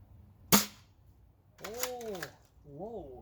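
A Ceda Model S airsoft gun fires a single sharp snap at a target, followed by a quiet stretch and then bursts of voiced sound.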